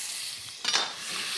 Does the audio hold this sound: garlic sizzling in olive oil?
yes